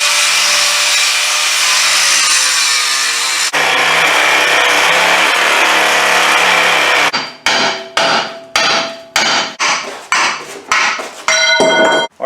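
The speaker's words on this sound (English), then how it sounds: "now we're ready to cut the bracket off" Power tool cutting off a bent control arm bracket, a loud steady grinding whine for several seconds, then a series of short choppy bursts with brief gaps, close and with no voices.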